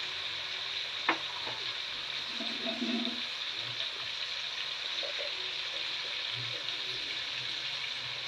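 Ground cumin and other spices being stirred into food frying in a pan, a steady sizzle with a soft scrape of stirring and one brief clink, close and alone without talk.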